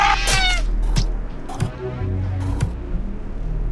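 A cat in the video game Friday the 13th Killer Puzzle lets out about four loud, close meows at uneven intervals, the first one long and wavering, over a low game background hum.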